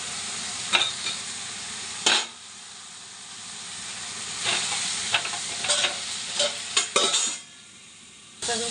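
Cucumber and tomato sizzle in a frying pan under a constant hiss. Bursts of stirring scrape through it at irregular intervals, then the sound briefly drops away near the end before the sizzle returns.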